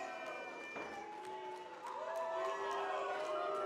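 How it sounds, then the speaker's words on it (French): A wrestling crowd at an NCW event in Sainte-Thérèse jeers a returning champion, a steady, dense roar of many voices filling the hall without letup, with some shouts rising above the mass. "On entend la foule huée, là."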